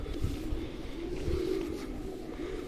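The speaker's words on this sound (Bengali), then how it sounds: "দেখতে পাচ্ছেন পায়রা কি সুন্দর হেঁটে চলে বেড়াচ্ছে" Pigeons walk about on Darjeeling's Mall Road, a low soft cooing rising faintly over a dull outdoor background hum, quiet and somewhat distant.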